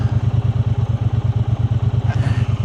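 Triumph T120 motorcycle engine pulsing steadily while riding on the road, a loud, even low throb with a faint rise in wind or hiss near the end.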